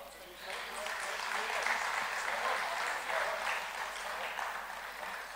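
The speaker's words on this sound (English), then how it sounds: "Let us welcome our guest with huge round of applause." Steady applause from an audience greeting guests taking their seats on a summit dais, a dense continuous wash of clapping that holds at even loudness throughout.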